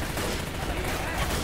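Rapid gunfire from Left 4 Dead 2 fills the whole moment: dense, continuous bursts of shots close up and loud, with a voice faintly mixed under the racket.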